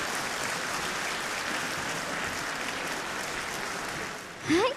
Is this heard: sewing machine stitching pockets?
no